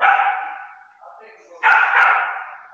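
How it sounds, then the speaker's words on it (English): A puppy barks and yips loudly and close by in two sharp bursts, separated by a short, quieter whimpering stretch, indoors. "Is she barking at him?"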